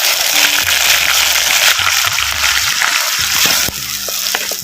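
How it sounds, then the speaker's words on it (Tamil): Ground onion paste hits hot oil in a pan and sizzles loudly and steadily, with a bright frying hiss and a few stirring knocks, close and with no talk. "மிக்சியில் அரைச்ச வெங்காய விழுதுகள் வந்து இப்போ சேர்த்துக்கிறேன்"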